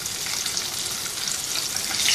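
Spicy chicken pieces fry in hot oil with a steady, dense sizzle, close and continuous, with no voices over it.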